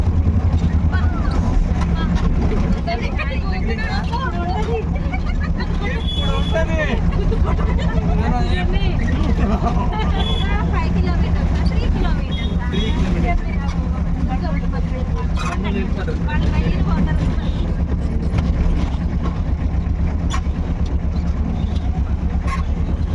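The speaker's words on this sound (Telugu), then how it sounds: "మనకి వెహికల్ సౌండే సరిపోతుంది" Vehicle jolting along a potholed shortcut road through forest on a temple pilgrimage, a steady loud low engine drone with rattling bumps throughout and a voice talking over it.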